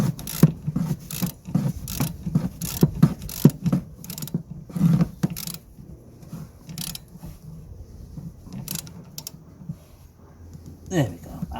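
A ratchet clicks in quick bursts tightening a 16mm nut on a Citroen C3 1.4 during servicing, sharp metallic ticks close up with pauses between runs, then quieter handling noise.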